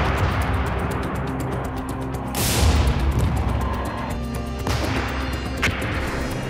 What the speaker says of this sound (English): Carl Gustav, a truly man-portable artillery.